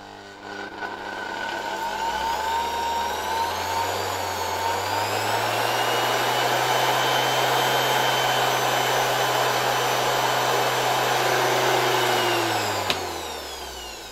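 A restored 1970 Zelmer 01 handheld vacuum cleaner with an East German Suhl motor spins up, runs loud and steady with a rising, whining motor tone for over ten seconds, then shuts off.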